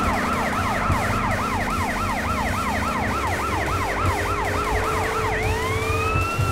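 A wailing police siren on a Corvette police car in GTA San Andreas sweeps up and down repeatedly, loud and close, over a steady engine drone, then shifts to a long rising tone near the end.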